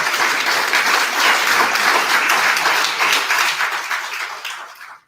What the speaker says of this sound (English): How about a round of applause for our candidates?